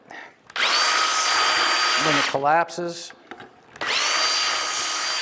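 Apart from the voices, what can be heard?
power drill with a Vix self-centering bit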